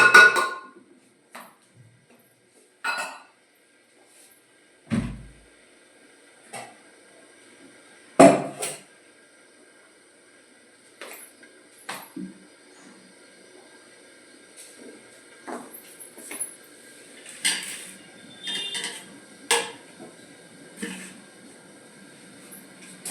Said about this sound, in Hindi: अब मैं दाल को इसमें कुकर में ही डाल दूंगी।